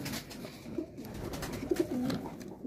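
Pigeons cooing in a loft of meat pigeons, soft low coos heard a few times over a faint background, fairly quiet and close.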